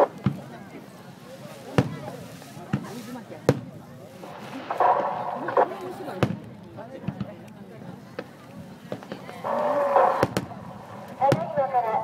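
Starmine fireworks at the Tateyama Bay fireworks festival, sharp launch thumps and bursts popping at uneven intervals with crackling patches, heard from a distance through crowd murmur.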